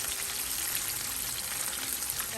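Spicy chicken wings fry in hot oil with a steady, dense crackling sizzle. The sound is moderately quiet and constant throughout, with no talking.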